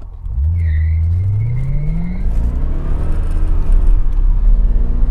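A C4 Corvette with 300 horsepower accelerates hard nearby, its engine note climbing steadily through the revs into a loud, rough roar with a strong low rumble, and a faint whine rides on top early on.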